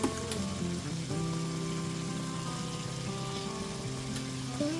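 Boiled chana dal going into oily fried masala, giving a soft, even sizzle with a faint hum beneath and an occasional light stir, fairly quiet and without speech.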